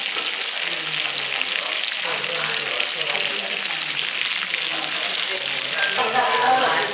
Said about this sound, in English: I wanted y'all to hear that shrimp sizzle